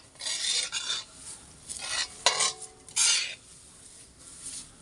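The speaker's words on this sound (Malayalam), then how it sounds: "ഞാനിത് ഇറക്കി വെച്ചിട്ട് നല്ലോണം ഒന്ന് ഇളക്കി കൊടുക്കണം" Roasted coconut for a dried prawn chutney powder being stirred in a pan just off the stove: quiet, intermittent raspy scraping strokes of a spoon against the pan, with a few small clinks.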